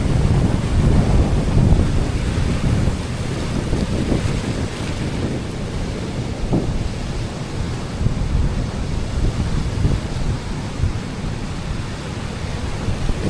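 Rough sea surging against rocks beside an old ruin, a steady loud roar of breaking waves mixed with strong wind buffeting the microphone, continuous with no voices.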